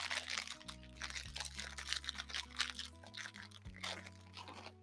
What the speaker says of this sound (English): I've got some plain crackers here.